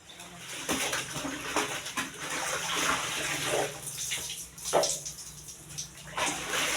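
School clothes being rinsed by hand in a basin of water, with close splashing and sloshing in uneven strokes, a faint bird call in the background.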